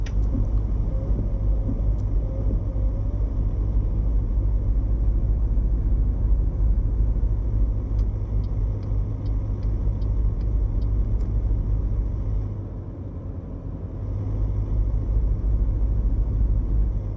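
A freshly upgraded truck engine in American Truck Simulator, pulling 18 tons of cargo, drones in a steady deep rumble that eases briefly partway through, with faint clicks over it.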